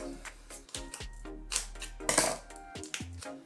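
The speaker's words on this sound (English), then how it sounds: "That's how you cut open yeast" A yeast packet being cut open with scissors while making pizza dough: close, crisp snips and papery crinkles in short bursts, with light clicks between them.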